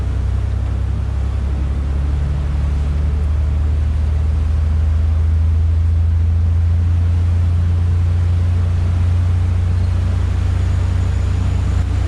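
The engines of a motor yacht run up toward 70% load while it is underway in the Florida Keys. They make a loud, steady low rumble with a deep drone that holds throughout, and there is no talking.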